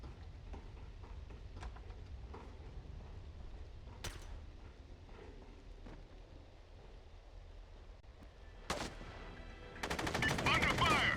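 Bursts of gunfire in the SOCOM: Combined Assault shooter game, a couple of sharp isolated shots followed by a loud, dense rapid volley near the end, over a steady rumbling ambient bed.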